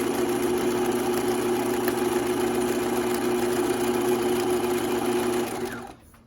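A sewing machine stitches along a fabric edge, wrapping it, with a steady, close, mechanical whir that runs continuously before winding down and stopping near the end.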